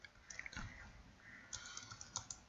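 Typing on a computer keyboard to enter values in VSDC Free Video Editor, quiet clustered key clicks in short bursts with pauses between, close and faint, no voices.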